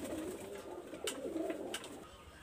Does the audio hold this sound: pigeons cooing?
yes